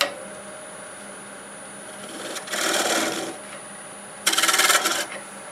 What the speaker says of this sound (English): So we'll do some more shear scraping here.